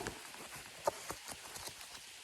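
Rain falls in a young forest during an October mushroom hunt, soft irregular patters and drops striking leaves and surfaces nearby, faint and steady with a few sharper taps.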